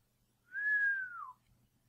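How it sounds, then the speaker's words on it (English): A single low, smooth whistle glides briefly and drops in pitch at the end, alone against a quiet background. "The cow pony gave a low whistle."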